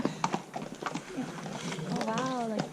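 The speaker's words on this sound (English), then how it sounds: "Oh wow, like even the horses don't step on it." Horses walk along the Lake Agnes hiking trail to the Little Beehive, their hooves clip-clopping in a loose, uneven rhythm under a nearby voice.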